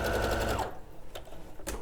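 A sewing machine runs fast and steady while stitching the facing at the armholes of a sleeveless Pauline dress, then stops abruptly, leaving a few quiet handling clicks and rustles close by.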